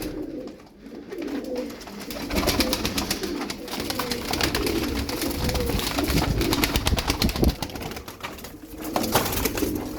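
Pigeons coo repeatedly in soft, throaty calls, mixed with rustling and the flutter of wings, fairly close throughout.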